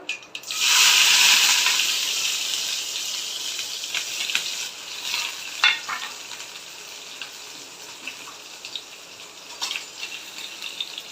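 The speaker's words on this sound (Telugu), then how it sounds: "పెరుగులోకి అయితే ఉల్లిపాయలు బాగా ఫ్రై అవసరం లేదండి, దోరగా వేస్తే చాలు" Sliced onions with a pinch of cumin sizzle loudly in a hot pan for a yogurt tempering, a steady bright hiss that fades slightly, broken by a few sharp crackles and scrapes.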